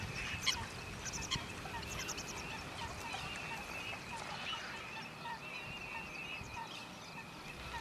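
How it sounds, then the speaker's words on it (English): A winter flock of Eurasian teal ducks at a wetland in Cyprus gives faint, distant, repeated calls and honks that overlap steadily throughout. "very common winter visitor to our wetlands is the Eurasian teal"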